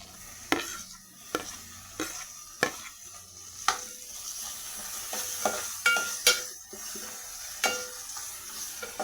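Tomatoes sauté with browned garlic and onion in a pan for a red amaranth leaf dish, a gentle sizzle punctuated by regular spatula scrapes and knocks about once a second, close and without talk.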